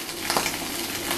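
Sea bass fillet searing in olive oil on a hot plancha, giving a steady, close sizzle with faint scraping clinks from a utensil.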